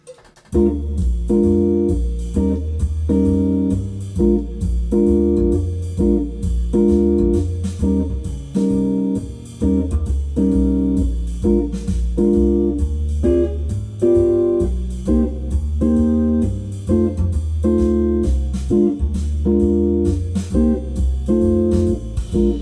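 Jazz blues chords strummed on guitar in a straight, steady rhythm over a backing track with bass, sustained and evenly loud throughout with no talking.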